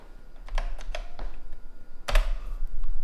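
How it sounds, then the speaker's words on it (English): Keys clack on a home computer keyboard in two short bursts, a few sharp close taps, then a pause, then a louder cluster of strokes, with no one talking. "But if I type in run,"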